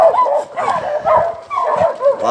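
A small dog barks in a rapid series of high, yappy bow-wows and yips, close and loud, with short pauses between bursts.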